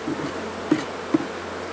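Honey bees buzzing around an open hive during an inspection: a close, continuous hum with a few brief louder pulses as bees pass near.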